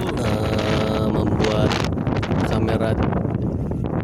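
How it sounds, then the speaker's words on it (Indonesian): Strong wind roars at the crater rim of Merapi volcano in front of the lava dome, buffeting the microphone with a loud, continuous rumble and gusts throughout, while a voice speaks under it. "Anginnya cukup kencang"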